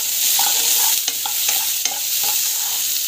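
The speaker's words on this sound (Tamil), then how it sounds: "வெங்காயம் நல்லா வந்து வதங்கணும்" Onions frying in a pan, a continuous bright sizzle with a few scraping stirs of a spoon against the pan, close and steady with no talking.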